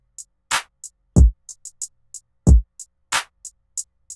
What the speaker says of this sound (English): our new drum pattern sounds like this